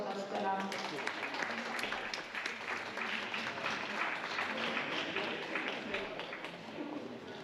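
Spectators applaud athletes at a finswimming sprint competition, with sustained, even clapping from a crowd in an echoing indoor space, fairly quiet and steady throughout.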